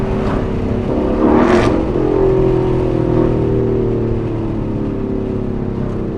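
A Ford Mustang with a loud aftermarket exhaust drones close by as it accelerates, with a brief rise in revs early on before settling into a steady, heavy exhaust rumble.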